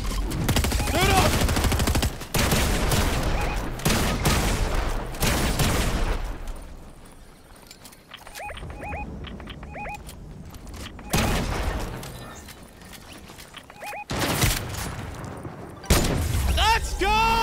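A video game shootout brings dense, loud bursts of rapid gunfire, which thin out into a quieter stretch midway before heavy firing returns near the end.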